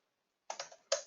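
Computer keyboard typing, a brief burst of four or five close, crisp keystrokes after a moment of silence.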